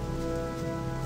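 Steady rain in the video game Gothic, a continuous soft hiss of falling rain blended with a low tonal background hum, even and unbroken throughout.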